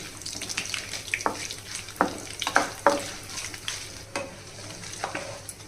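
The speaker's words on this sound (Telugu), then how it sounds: "ఇదిగోండి పోపు చక్కగా వేగిపోయింది." A spice tempering for curry-leaf pickle sizzles in hot oil, with a steady frying hiss under repeated scraping stirs and clinks of a utensil against the pan at close range.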